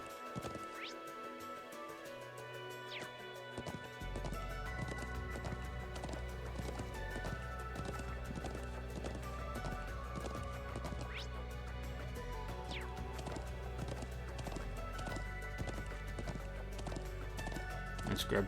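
Horse hooves clip-clopping in a steady rhythm in Trails of Cold Steel II, with occasional neighing, running throughout under game music and intermittent speech.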